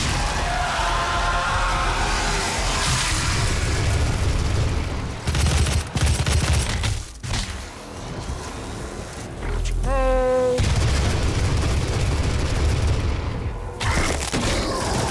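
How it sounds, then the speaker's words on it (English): Rapid automatic gunfire in DOOM (2016) bursts loud and dense over a roaring game soundtrack, broken by brief explosive gaps, with a voice shouting once partway through. "So it might be good to just kind of mull them a little bit with the machine gun first."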